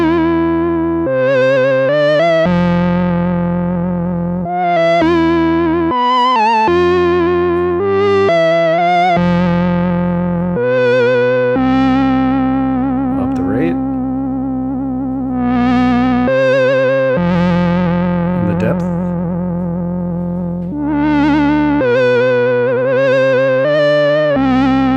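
Synth notes from an Elektron Digitone or Roland SH-101 run through a Walrus Audio Julianna chorus pedal on random wave, sustained tones whose pitch jumps and wobbles irregularly, with separate notes and held chords, loud and alone.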